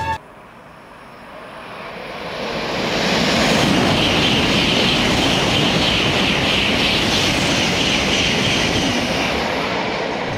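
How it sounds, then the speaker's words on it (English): A Shinkansen N700 series bullet train rushes past near Higashi-Hiroshima Station in a loud, building roar that swells and holds as it goes by, with no voices. "This Shinkansen is series N700."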